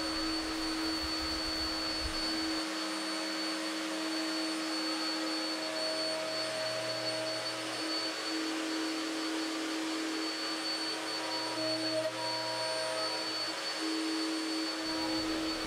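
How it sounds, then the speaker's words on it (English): A router fitted with a 3/4 inch straight bit cuts miter grooves and T-track recesses in an outfeed table top, giving a loud, steady high-pitched whine that holds for the whole stretch. "route out the miter grooves, and then route out the 3/4 inch recesses for the T-track"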